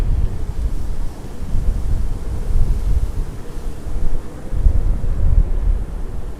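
Wind buffeting on the Williamsburg Bridge in New York City in January, a steady loud low rumble with gusting swells, close to the microphone and without voices.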